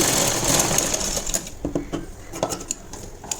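A sewing machine stitches blouse cloth with a half-inch seam, its steady close whirring running loud and continuous, then breaking into shorter stitching bursts toward the end.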